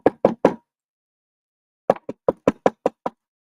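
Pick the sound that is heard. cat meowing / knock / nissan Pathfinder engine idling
knock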